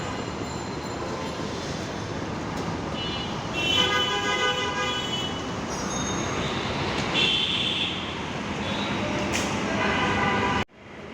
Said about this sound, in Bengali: এই যে দেখছেন যে আমার বাস আসতেছে কাউন্টারের সামনে